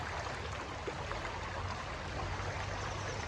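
Mountain spring water flowing in a stream in the sierra near Axtla de Terrazas, a steady, dense rushing and babbling wash, close and continuous with no voices.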